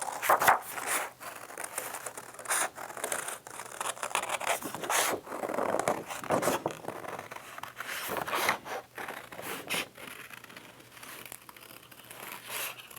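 Scissors snip and rasp through paper in irregular bursts, with crinkling and rustling of the sheet between cuts, close up and fairly quiet.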